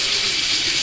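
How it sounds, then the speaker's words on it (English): Hot water pours into a stainless steel mixing bowl in a short, continuous splashing rush, close and fairly loud, with no speech. "so I'll get some hot water here"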